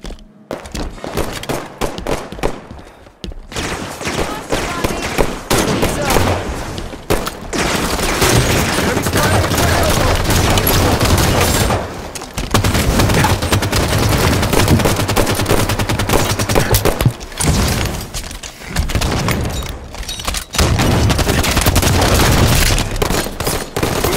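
Halo 5 multiplayer firefight with dense, loud automatic gunfire and heavy thuds sustained almost continuously, broken by a few brief lulls. Voices speak over the shooting.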